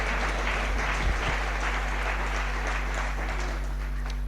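A church congregation claps together in a steady, continuous wash of applause, moderately loud and even throughout, with faint voices mixed in.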